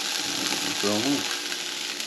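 Sliced mushrooms hit a hot pan and fry with a steady broadband sizzle that holds for about two seconds, with a brief voice-like murmur partway through.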